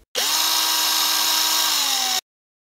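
A power tool drives a screw into a Masonite I-joist in one steady high-pitched whir lasting about two seconds, close and loud, its tone sagging slightly as the screw seats.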